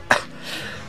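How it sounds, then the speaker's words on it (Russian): A single short, sharp cough bursts out near the start, followed by faint background noise, during Grand Theft Auto: San Andreas gameplay. "И вот, видите, я кашляю."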